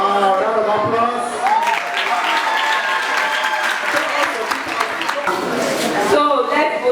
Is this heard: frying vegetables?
no